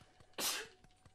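A single short sneeze during Overcooked 2 play, a sharp close burst over faint background game sound, with no talk around it.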